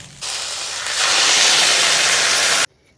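Water poured into a hot pan of fried yardlong beans and potatoes sets off a loud, sudden sizzling hiss. It holds steady and strong for about two and a half seconds, then cuts off abruptly.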